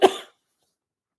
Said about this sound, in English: I had a sinus infection and the cough is starting.